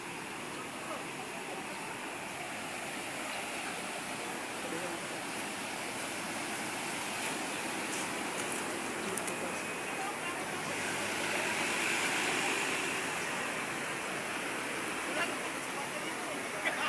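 Rushing floodwater after rain, a steady broadband roar that swells slightly midway and continues unbroken at moderate loudness.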